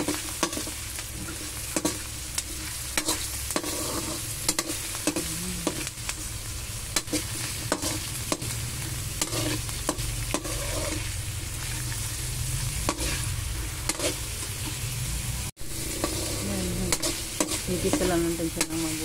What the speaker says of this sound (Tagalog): Igisa lang natin siya ng mabuti guys.